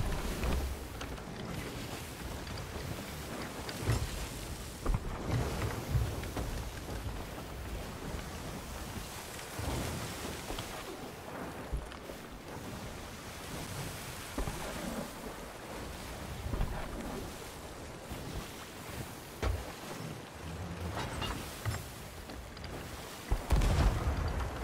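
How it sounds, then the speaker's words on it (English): Island cannons boom at intervals in the Sea of Thieves video game over constant ocean waves and wind noise, with heavier blasts toward the end. "I just hate the sound of the island cannon"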